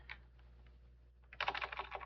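Rapid clicking of keys on a computer keyboard while a command-line override is typed for a Mario Bros. game setup: a few scattered soft taps, then a dense, louder burst of quick keystrokes near the close, with no talking.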